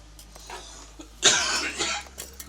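A person coughs once sharply and fairly close in a car repair workshop, followed by a brief rough throat rasp and quieter breathy sounds.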